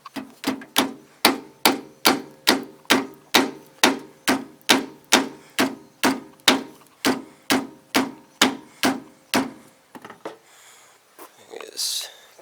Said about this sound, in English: So I got my Mario mallet, and I'm going to try to hammer it down